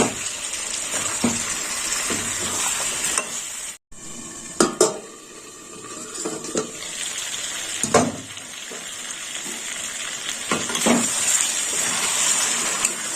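Mutton curry with salt and a little sugar is sautéed in a pot, a steady close sizzle broken by spatula scrapes and metallic knocks against the pan at irregular intervals, with one brief drop to silence and no talk.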